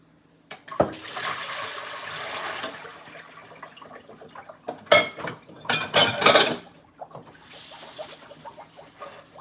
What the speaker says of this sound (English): I'm rinsing it off for the last time